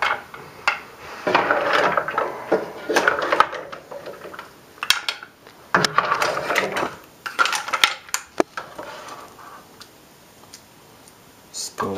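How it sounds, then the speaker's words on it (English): Mussel shells are dropped into a pan, giving close clattering clicks and hard shell knocks in irregular bursts, with quieter gaps between handfuls. "Put a bunch of mussels in the middle"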